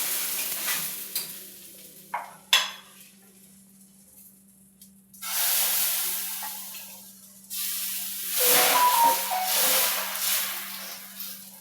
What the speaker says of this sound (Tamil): அடுத்த தோசை ஊற்றியாச்சு.